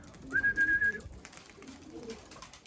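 Young homing pigeons at a loft, a soft whistle-like tone and faint cooing and flutter against quiet background, brief and close.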